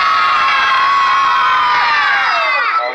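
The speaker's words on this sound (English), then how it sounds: "If you guys want to see me do this trick, yell and scream as loud as you can right now." An audience at a reptile show yells and screams loudly as a group, a sustained high chorus of shrieks and cheers that holds for a few seconds and then tapers off at the end.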